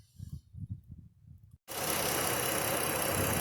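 A 2015 Chrysler Town & Country's 3.6L V6 turns over and settles into a smooth, steady idle, loud and close, after a few soft thuds of work on its spark plugs and coil packs.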